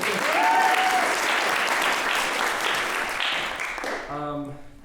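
Sustained applause from a concert crowd rings out, with a few cheers mixed in, then thins away as a voice begins to speak near the end.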